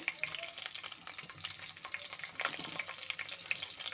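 Dried chillies, cumin seeds, a bay leaf and split green chillies sizzle in hot oil. The crackle is steady and close, with small pops and stirring throughout, and there is no talking.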